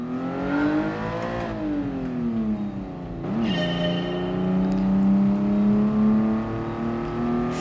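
A Toyota 2000GT engine in Gran Turismo Sport revs up through the gears, rising in pitch, dropping at a shift, then climbing again, loud and steady with no talking.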